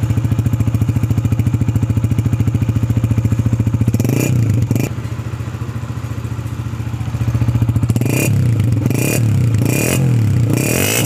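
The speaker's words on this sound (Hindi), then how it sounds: "अब ये मोटर बाइक की लुक भी देखें और साथ साथ इंशाल्लाह मैं आपको साउंड भी सुना देता हूँ।" A 2006 Honda CG125 motorcycle engine idles steadily with a low throbbing thump, then is revved in several sharp bursts, with clattery mechanical noise between the revs, close and loud with no talking.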